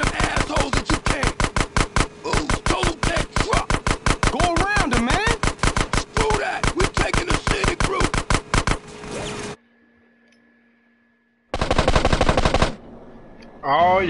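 Rapid bursts of automatic gunfire in GTA: San Andreas, loud and close, firing in long repeated volleys for about nine seconds, then a short pause and another brief burst.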